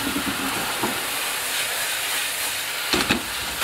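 Mirin and sake hit a hot frying pan of ginger, enoki and chicken, producing a close, steady hissing sizzle with short spattering bursts at the start and again near the end.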